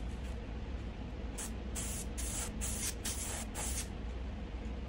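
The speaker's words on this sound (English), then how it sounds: "This is wet right here, so I'm just gonna push down and dry that before I start airbrushing" An airbrush blows air to dry wet paint in a run of short hissing bursts, about six close puffs in quick succession over a low background hum.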